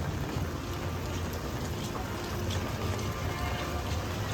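Steady rain pours down near an awning at Universal Studios Orlando during Halloween Horror Nights, a dense continuous hiss with no break, loud and close.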